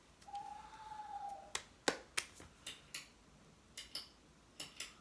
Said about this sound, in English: Clicky pen. It's a clicky pen.